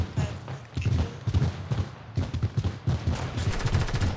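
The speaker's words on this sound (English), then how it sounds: "Somebody's shooting at me." Rapid bursts of automatic gunfire in Fortnite, a string of sharp, evenly spaced shots close by, pausing briefly mid-way before another fast volley.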